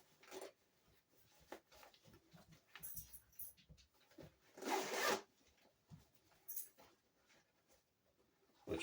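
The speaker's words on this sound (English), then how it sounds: "It has a zipper, so I can zipper the sides right up." Zipper pulled along the side of a dog car seat cover in several short zips, with a longer loud run in the middle and quieter rustling and handling between them.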